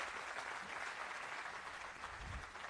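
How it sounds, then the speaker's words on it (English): A seated audience at a Cloud Community Days panel session in Bhopal claps for the panelists, a continuous, even roar of applause from many people, fairly loud and filling the whole stretch without talk. "Can we have a huge round of applause for all the panelists?"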